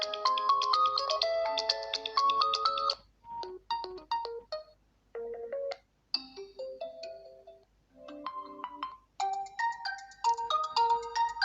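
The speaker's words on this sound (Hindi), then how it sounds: "यहाँ से रिंगटोन्स में आ जाते हैं और देख लेते हैं यहाँ पर स्पीकर्स की कैसी क्वालिटी है" A bright, melodic ringtone plays through a Realme C17 smartphone's small speaker, a tinkling synthesized tune in phrases broken by short pauses.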